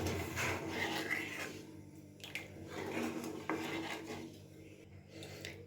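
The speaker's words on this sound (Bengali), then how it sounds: "এবার খুব ভালো করে কিন্তু এটা নাড়াচাড়া করতে হবে যতক্ষণ না জাল হচ্ছে" Spiced sabudana (tapioca pearl) mixture stirred and scraped in a pot over heat, a continuous rasping, scuffing rub with light metallic contact, fairly close, no talking.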